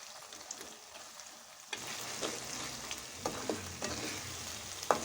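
Dal being stirred in a frying pan over a steady sizzle, with soft scraping strokes and a few sharper clinks, close and fairly quiet, no voices.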